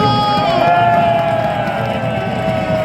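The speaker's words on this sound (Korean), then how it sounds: "다시 한번 뜨거운 박수와 함성을 부탁드립니다" A crowd at an outdoor Korean presidential election campaign rally in Hongseong cheers and applauds, a loud, dense roar that holds steady. Sustained tonal whoops or horn-like tones sit on top of it.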